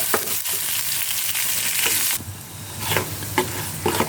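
Broiler chicken frying in a pan with ginger-garlic paste and browned onion, a steady loud sizzle broken by several sharp scraping stirs, a quieter stretch midway, then more stirring strokes.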